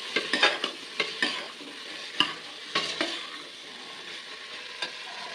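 Vegetables with peas and chopped chillies frying for tahari, a close, even sizzle broken by several quick scraping stirs of a spoon against the pan, no voices.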